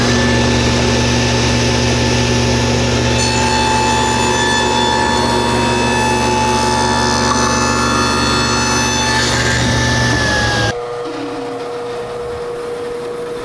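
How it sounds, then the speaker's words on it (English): A table saw fitted with a stacked dado head cutter cuts quarter-inch grooves in wood rails, a loud steady whining drone through the cut that drops to a lower hum as the blade leaves the wood. "I'm going to use a stacked dado head cutter in the table saw"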